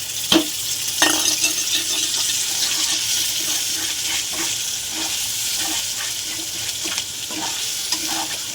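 Water goes into a sizzling spice paste of turmeric, salt and tomato paste for a Bombay duck fish curry, giving a loud, steady hiss and crackle with a few stirring clinks.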